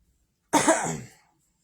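A single short cough, close and fairly loud, lasting under a second, then silence.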